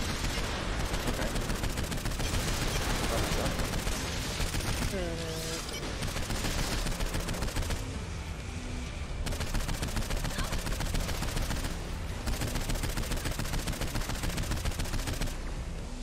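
Dense, continuous gunfire in the Saints Row IV video game, rapid automatic bursts layered with explosions and mechanical clatter, loud and unbroken for the whole stretch.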